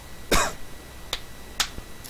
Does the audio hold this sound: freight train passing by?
no